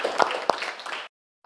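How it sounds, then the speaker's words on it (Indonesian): A short burst of applause from a classroom of students, about a second of mixed clapping that cuts off into silence. "Kasih tepuk tangan."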